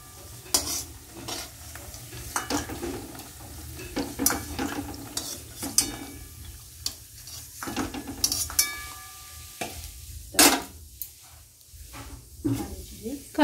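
Homemade bori lentil dumplings fry in a pan, with a soft sizzle under repeated sharp spatula scrapes and clanks against the metal, spaced irregularly and close.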